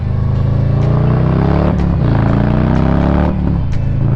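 A motorcycle engine hums steadily and close while being ridden, its note climbing and dropping a few times as the throttle shifts, with no speech over it.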